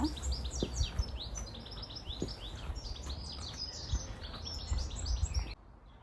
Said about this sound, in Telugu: పక్షులు హ్యాపీగా పాటలు పాడేసుకుంటున్నాయి వినండి పక్షుల కిలకిల రావం అనమాట